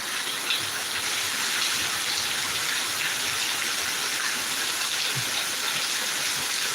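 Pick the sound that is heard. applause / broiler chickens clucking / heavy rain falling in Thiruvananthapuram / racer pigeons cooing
heavy rain falling in Thiruvananthapuram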